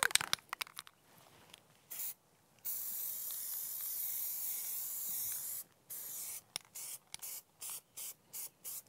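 Decoy conditioner is sprayed onto a duck decoy in a run of aerosol bursts: a long steady hiss followed by several short, evenly spaced sprays, close and loud against a quiet room.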